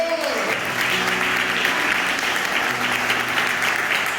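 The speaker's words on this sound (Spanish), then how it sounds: "Denle un aplauso al Señor, hermano." Church congregation applauds during a worship service, a full, steady round of clapping with a voice and faint sustained tones underneath.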